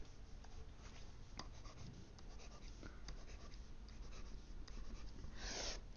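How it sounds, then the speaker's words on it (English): A pen or marker drawing an asymptote line on a graph during a math lesson on exponential functions: quiet, continuous scratchy strokes with short taps and a brief rustle at the end. "I'm going to draw in my asymptote."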